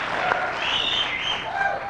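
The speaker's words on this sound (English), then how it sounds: "Is that applause for me, or are you afraid of Sinatra?" A television studio audience applauds on a 1976 late-night talk show, a dense, steady wash of clapping heard without any talk over it.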